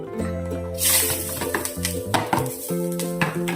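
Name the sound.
coconut frying in oil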